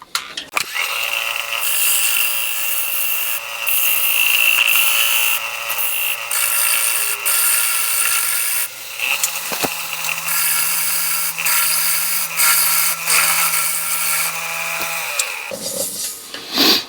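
A wood lathe turns a greenwood bowl while a tool shapes the foot, giving a steady, loud scraping hiss over a low motor hum that shifts pitch partway through and then winds down near the end.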